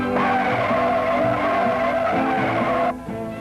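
A 1969 Ford LTD with a 429 four-barrel V8, front disc and rear drum brakes, brakes hard from 30 mph on a test course, its tires screeching loudly and steadily before the squeal cuts off near the end.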